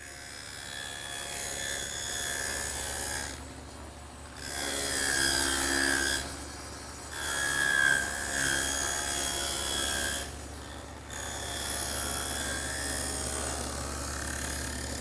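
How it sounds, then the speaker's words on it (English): A table saw cuts a dado in oak in a woodworking shop, giving long loud whining passes broken by short quieter gaps as the blade runs between cuts, close by and with no talking. "And I'll do that over on the table saw."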